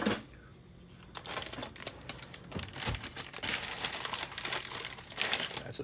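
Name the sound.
plastic bag crinkling, cut with scissors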